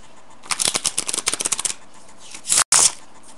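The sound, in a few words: shuffling playing cards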